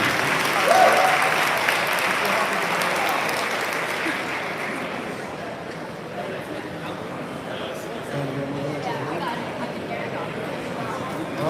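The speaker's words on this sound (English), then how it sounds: "Round of applause, gentlemen, thank you." Audience clapping at a bodybuilding posing clinic, a sustained crowd applause that swells early and slowly fades, heard alongside a voice over the room.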